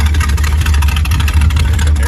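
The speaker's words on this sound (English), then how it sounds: "You can hear the exhaust." A muscle car idles with a loud, deep, throbbing exhaust note, a steady close-up rumble with rapid pulsing and no break.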